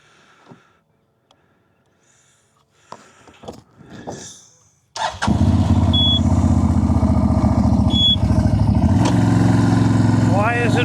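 A CFMOTO CForce 1000 ATV sits quiet apart from faint handling noises, then its engine catches about halfway through and runs loud and steady at a rough, throbbing idle until the end.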